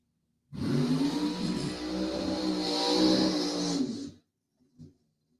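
A funny car drag racing engine at Byron Dragway roars loud and close during a burnout, a sustained four-second rev that cuts off abruptly, followed by a brief faint thump.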